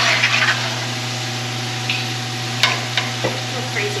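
Potato chips frying in oil in a pot on a modified burner of a Blackstone griddle, a steady bubbling sizzle over a low burner hum, with light scrapes and clinks from stirring.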